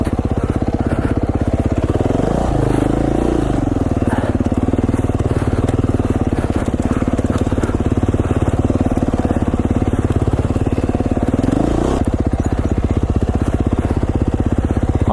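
A Beta 500 dirt bike engine drones loud and close while climbing steep, off-camber Idaho singletrack, revving up and down with throttle changes and a sharp rise near the end.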